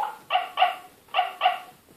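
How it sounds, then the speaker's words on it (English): Electronic dog barking from a VTech Little Smart toy computer: two pairs of sharp, close barks with a short pause between the pairs, clear and alone without talk. "Dog."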